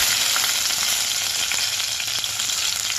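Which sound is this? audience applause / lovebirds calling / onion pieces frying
onion pieces frying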